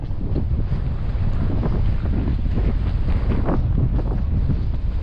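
Steady, loud wind buffeting the microphone in an open field during sweet potato planting, a continuous low rumble and roar with no voices, like being out on open water.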